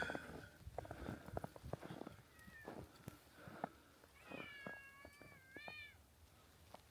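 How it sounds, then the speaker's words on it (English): A black cat meows outdoors in snow, giving several faint drawn-out cries toward the end, with crunching footsteps and light rustling around it. "I hear my kitty."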